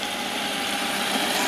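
A motorized cooler scooter with a small engine running steadily, a continuous buzzing drone at even volume through the whole short stretch.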